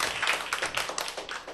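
An audience at a testimony gathering claps to welcome a speaker, dense lively clapping held at an even level for the whole stretch.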